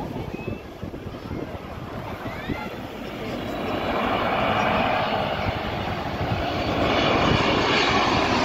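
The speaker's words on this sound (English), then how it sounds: "Coming in now is a Qantas Boeing 787-9 Dreamliner." A Qantas Boeing 787-9 Dreamliner coming in to land at night, its engine roar building steadily from moderate to loud and sustained, with wind buffeting the microphone.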